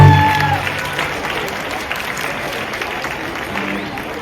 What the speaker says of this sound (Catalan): els donem un fort aplaudiment